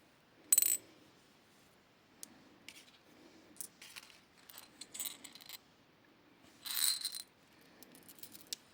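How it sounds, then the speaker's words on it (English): Purple metallic glass fire polish beads being handled and sorted, making scattered light clicks and brief tinkling rattles, with a few louder bursts among quiet gaps, close by. "Getting the fire polish beads off first."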